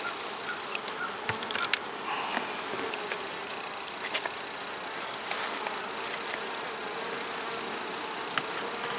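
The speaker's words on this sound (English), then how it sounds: "Either way, we got a decent number of bees." Honey bees swarm steadily around a hive split, a continuous soft buzzing drone with occasional closer passes of individual bees.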